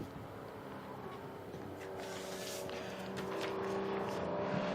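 Historic Porsche race cars head to the pits at a classic racing event, heard as a faint, distant engine drone that builds gradually, with a broad hum of circuit ambience.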